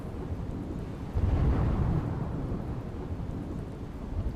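Heavy downpour with thunder in Gujarat, a dense roar of rain with a deep rolling rumble swelling in the middle, steady and close, with no voices.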